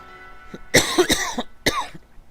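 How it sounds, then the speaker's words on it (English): Several harsh coughs from a person with a cold, in two quick bursts followed by a single one, loud and close against a quiet background. "This is more than my usual everyday cough."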